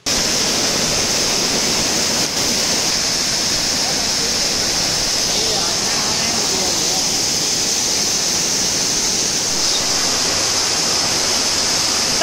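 Palappattu waterfall near Kallakurichi pours in a loud, unbroken roar of falling water. The broad rushing hiss holds steady from start to finish, close to the source.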